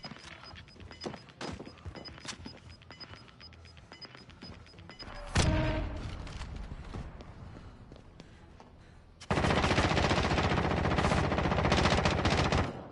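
Automatic weapons fire in a Modern Warfare battle royale match: scattered shots and short bursts, then a loud, sustained stretch of rapid gunfire near the end.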